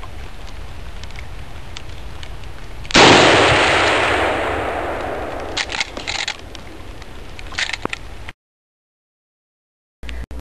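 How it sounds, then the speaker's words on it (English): A single loud Winchester 30-30 rifle shot cracks out sharply, followed by a long fading echo and a few small clicks before the sound drops to silence. "Now I'm going to demonstrate a Winchester 30-30,"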